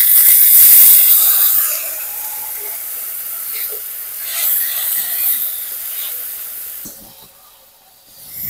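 Water hitting a hot pan of frying ginger, garlic and cumin paste for a Bengali fish curry, a loud burst of hiss and steam that settles into a steady sizzle and fades near the end.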